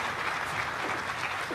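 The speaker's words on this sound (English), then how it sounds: "That statement and the applause that followed has angered Yolanda Diaz" Applause at a meeting of Spain's Football Federation: a dense, steady burst of clapping from a room full of people, continuous and moderately loud.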